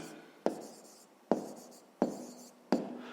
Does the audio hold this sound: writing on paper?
yes